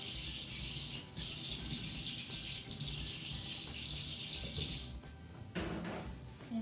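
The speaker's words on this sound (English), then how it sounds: "I'm going to sprinkle a little water on top." Water sprinkled from a running tap onto potatoes in a dish before microwaving, a steady close hiss and splatter that stops briefly, then resumes with a short burst near the end.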